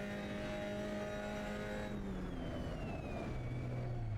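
A Mazda MX-5 Cup race car engine holds full throttle at a steady high drone on track, its pitch climbing smoothly, then dropping sharply as it shifts and builds again.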